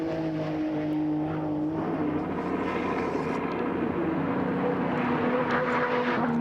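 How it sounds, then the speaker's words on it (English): A Group A touring car from 1991 accelerates hard around Mount Panorama, a continuous engine roar with a high, steady pitch that builds through the full lap stretch, close and loud without any talk over it. "You can really hear the way the car puts its power to the road."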